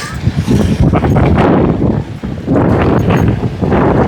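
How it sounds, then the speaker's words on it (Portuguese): Strong wind roars and buffets the microphone in heavy gusts on a beachfront, loud and continuous with a brief lull midway. "Muito vento aqui na orla"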